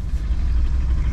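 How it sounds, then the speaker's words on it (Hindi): Traffic jam on a road in Dehradun, with car engines idling together in a steady, dense low rumble that stays constant and close throughout, with no voices. "ट्रैफिक जाम लगा हुआ है।"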